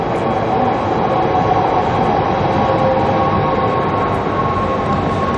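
Train pulling into a station in Amsterdam, heard as a steady loud rumble and rolling rail noise close by, with no speech throughout.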